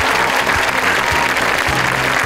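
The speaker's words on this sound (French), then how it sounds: "On peut faire un tonnerre d'applaudissements pour nos mécaniciens qui sont là." Outdoor crowd applause for air force mechanics at a Patrouille de France air show with a Rafale, a dense, steady clapping that sustains loudly throughout under a faint voice.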